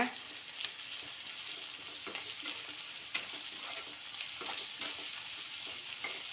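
Curry leaves and about five green chilies sauté in a pan for fried sankara fish curry, giving a continuous soft sizzle with light spatula scrapes and taps, quiet and even, with no voices.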